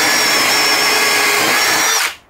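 A drill driver with a Milwaukee Red Helix bit drilling timber gives a loud, steady, high motor whine. It runs continuously for about two seconds, then cuts off sharply.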